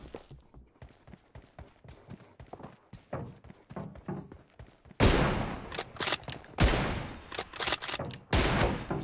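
Gunfire in BGMI (Battlegrounds Mobile India): a quick run of sharp shots at moderate volume, then from midway a louder, denser barrage of heavy bursts with short gaps, with no talk over it.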